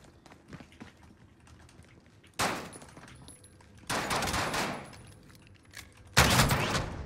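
Three loud, close shotgun blasts from the video game Warzone, each a sharp crack with a ringing tail, stand out from quieter game ambience and light footsteps.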